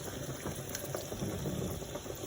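Spaghetti mince sauce with tomato simmering in a pot, a steady soft bubbling and hiss with faint pops, close and continuous with no talking.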